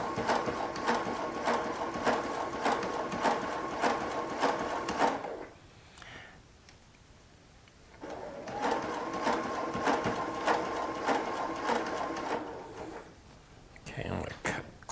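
A Baby Lock sewing machine stitches a quarter-inch quilt seam in fast, even bursts of needle chatter, going quiet for a couple of seconds midway before running again and stopping briefly near the end.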